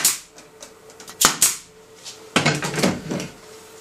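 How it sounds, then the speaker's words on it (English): Air stapler firing 1 3/8 inch staples into a wooden frame jig, giving several sharp snapping pops separated by short pauses, with clattering handling noises in between. "I take and put 1 3/8 inch staples in my air stapler."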